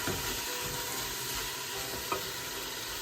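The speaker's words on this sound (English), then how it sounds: "let's get a spoon. Muck this around in here a little bit" Beef and mango stew sizzling steadily in a pan as a spoon stirs it around, giving a continuous close frying hiss with occasional soft scrapes and no talking.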